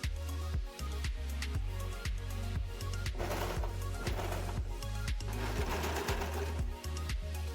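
Sewing machine stitching the side seams of a small garment, with a quick, steady mechanical clatter of the needle running continuously and close by.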